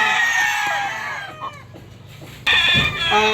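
A Golden Boy sweater F1 gamefowl rooster, a young broodstag on a backyard game farm, gives a close, loud clucking call that fades midway and then returns strongly near the end.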